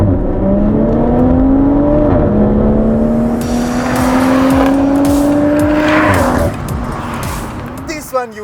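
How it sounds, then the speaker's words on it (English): BMW M340i's 3-litre turbocharged petrol straight-six revving hard toward 7,000 rpm, loud and close, pitch climbing in long sweeps with brief dips at shifts before easing off near the end. "The M340i uses the straight-six 3-liter turbocharged petrol"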